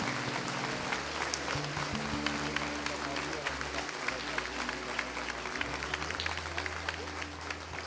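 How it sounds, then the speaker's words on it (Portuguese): A church congregation claps strongly in worship, dense sustained applause with a low musical drone and sustained tones under it, and talking mixed in. "Dê um aplauso bem forte ao Senhor."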